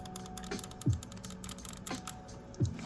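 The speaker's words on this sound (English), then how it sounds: "Bumpers are clicky as well." Sharp plastic clicks from the bumpers of a modded PS5 DualSense controller, several close, crisp presses spaced irregularly, with no talk over them.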